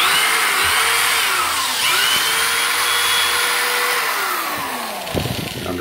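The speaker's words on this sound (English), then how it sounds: "I have a quarter inch drill bit and I'm simply going to mark right at that line" A power drill with a quarter inch bit boring into a closet wall to mount wire shelving, a loud continuous whine that dips in pitch under load, then stops abruptly.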